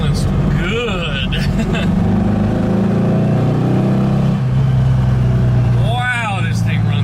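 A car engine fitted with dual Weber 34 ICT carburetors runs steadily at close range, a continuous droning hum under a voice talking throughout.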